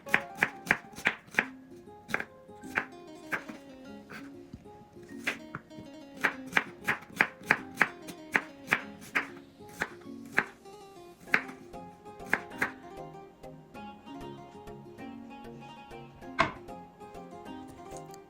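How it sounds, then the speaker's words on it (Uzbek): A knife slices onion on a board in sharp, close chops, arriving in quick bursts separated by brief pauses, loud and clear with no voices. "Bu orada piyozni to'g'rab olamiz,"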